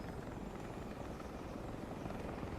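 A helicopter in War Thunder, its rotor and engine giving a continuous dense, rumbling drone at steady loudness, with no break or change over the short span.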